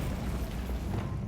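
A Bombarda spell explodes in the Hogwarts Legacy video game, a heavy, rumbling blast with deep low-end roar sustained across its brief span without speech.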